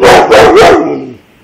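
A pit bull barks three times in quick succession at close range, loud and sharp, each bark ending abruptly, followed by a short fading tail.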